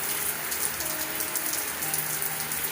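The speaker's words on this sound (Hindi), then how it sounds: "काफ़ी तेज़ बारिश हो रही है" Heavy rain pours down outside a house on a dark evening, a dense, steady hiss with drops pattering on surfaces, loud and unbroken with no voices.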